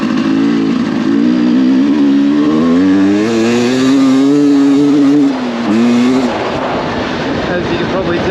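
A 2023 Sherco enduro motorcycle being ridden, its engine revving and rising in pitch, loud and close throughout, with wind noise.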